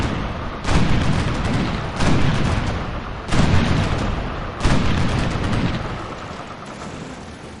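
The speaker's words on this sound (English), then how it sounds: "the ship combats are just very, very loud" Naval ship combat in Civilization III on PC, heard as a run of loud, heavy booms, four big blasts about a second apart, each trailing into rumbling cannon-like fire and decaying into a sustained roar.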